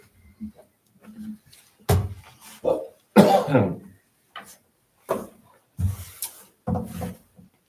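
Several harsh coughs and throat clearings at a planning board meeting, sharp bursts spaced irregularly across the clip, close and fairly loud with quiet gaps between.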